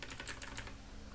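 Quick, soft keystrokes on a computer keyboard at steady typing pace, fairly quiet and close, with no voices.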